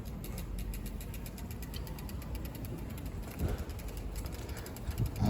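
An electric bike, a Priority Current with a newly installed throttle, rides down an alley on throttle alone, giving a low mechanical whirring and rattling drone with road and wind noise, fairly close and steady, with a few louder bumps near the end.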